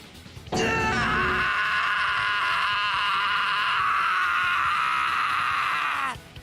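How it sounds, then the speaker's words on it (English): A video game character lets out a long, loud, sustained scream with a harsh, wavering tone, rising abruptly and holding steady for about five and a half seconds before cutting off. "That's a good scream."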